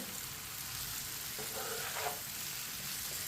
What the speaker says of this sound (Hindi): अब इसमें फ्राई की हुई भिंडी डाल लेंगे, मिक्स कर लेंगे।